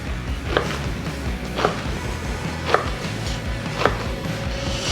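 A knife cuts leftover ciabatta into slices, giving four evenly spaced crisp thuds on a board over a low background hum.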